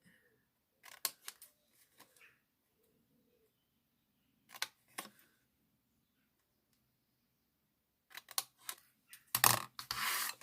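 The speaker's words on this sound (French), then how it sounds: "Là, on va couper pareil les petits carrés d'en bas." Scissors snip through paper while small squares are cut for a handmade gift pouch: a few quick bursts of close, crisp cuts separated by quiet pauses, with a louder rustle of paper at the end.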